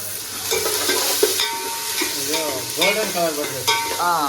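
Onions frying in a pan at home for a chicken masala, giving a continuous sizzle with occasional stirring while voices talk over it.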